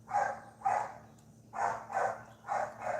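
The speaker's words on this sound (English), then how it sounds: "I got the dog in the neighbor's yard barking like crazy" A dog barks repeatedly in a neighbor's yard, five or so sharp barks in uneven pairs at moderate distance over a steady low hum, with no talking.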